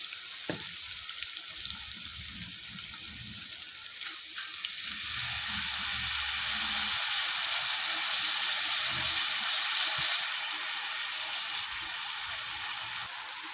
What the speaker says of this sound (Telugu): కొంచెం ఆయిల్లో ఫ్రై అయిన తర్వాత మనము క్యాబేజ్ అనేది యాడ్ చేసుకోవాలి.